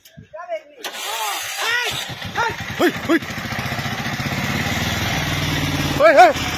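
A motorcycle engine starts and runs at close range near a wild elephant, steady and loud, under shouting voices.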